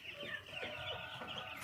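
Six-day-old chickens cluck and peep continuously in a close, busy chorus of overlapping high calls, with no talking.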